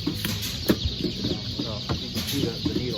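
Chickens clucking and chirping at a hatchery, a busy, steady chorus of close bird calls mixed with machine noise and a voice speaking briefly.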